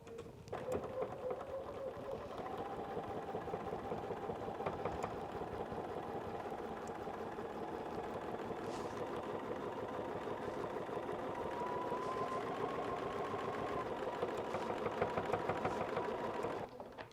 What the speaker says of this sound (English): I'm going to do a back stitch just because that'll be a wear point.